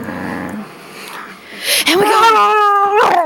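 A dog growls and whines in harmonic, wavering tones, close and fairly loud, with a person talking briefly at the start.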